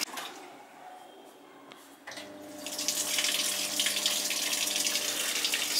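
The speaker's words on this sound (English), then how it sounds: "it's spinning while the water is being soaked in" A Panasonic NA-F62B3 6.2 kg top-loading fully automatic washing machine fills with water, a quiet hum giving way to a steady, close rushing stream that grows louder and stays constant, with no talking.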